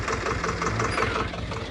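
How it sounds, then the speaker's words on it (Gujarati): A tractor engine runs in a farm field, a steady rough mid-low rumble with a knocking idle character, close by and continuous with no talk. "ટ્રેક્ટર વળતી વખત"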